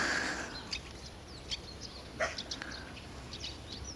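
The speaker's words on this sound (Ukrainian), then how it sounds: "Тихо-тихо, тільки пташки співають." On a quiet, foggy morning outdoors, a few birds give faint, scattered chirps and short calls over a soft background hush, distant and sparse.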